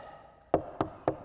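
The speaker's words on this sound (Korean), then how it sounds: "노크 소리가 들렸습니다." Three sharp knocks on a door, evenly spaced about a quarter second apart, close and distinct against a quiet room.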